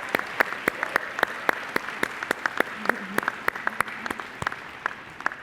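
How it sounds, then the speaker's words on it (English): A small audience at a graduation and chapter awards ceremony gives a short round of applause, with sparse, distinct claps heard fairly close over a faint background hum. "Let's give them another round of applause."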